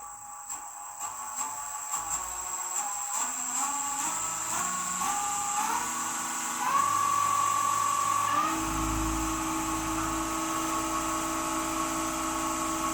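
Nova Galaxi DVR 1644 wood lathe running alone, its motor whine stepping up in pitch as the speed is raised, then holding a steady high tone with a low hum beneath.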